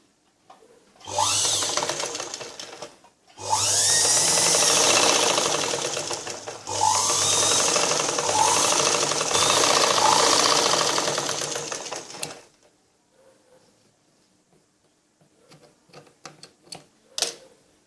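A sewing machine stitches a blouse belt piece in three long, steady runs of whirring, broken by short pauses, then quiet handling noises and light clicks at the end.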